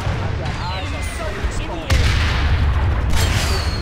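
Gunfire in the video game Planetside 2 crackles in rapid, dense bursts of shots, and the barrage grows louder and heavier halfway through.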